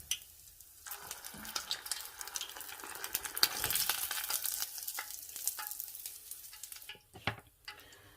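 Shrimp balls fry in a pan of hot oil, giving a close, crackling sizzle that swells in the middle, with occasional stirring clinks and quieter stretches.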